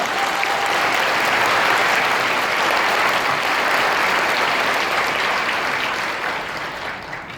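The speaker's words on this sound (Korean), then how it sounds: "큰 박수 부탁드리겠습니다" An audience at an HWPL peace forum marking the first anniversary of an international law declaration breaks into full, dense applause. The many hands clap loudly and continuously, then ease off toward the end.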